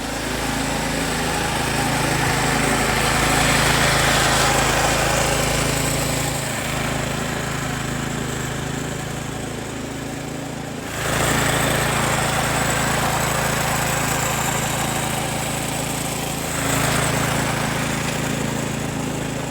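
A 20-inch McLane reel lawn mower runs steadily while cutting residential grass, a close, continuous engine drone with brief dips and surges in loudness and no talking.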